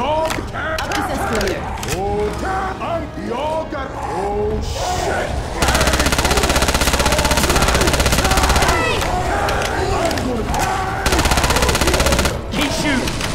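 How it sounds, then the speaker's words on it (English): Heavy automatic gunfire from several weapons rattles loudly in the zombie shooter Left 4 Dead 2, long sustained bursts mixed with sharper shots, while players shout over it. "Keep shooting."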